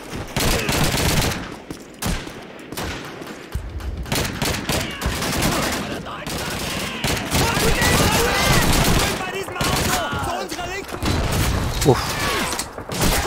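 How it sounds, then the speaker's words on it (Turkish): Dense bursts of gunfire and bullet impacts from the World War II shooter game Call of Duty 2 crackle almost continuously, with a man's brief exclamation in the mix. "kurşun sesleri acayip geliyor"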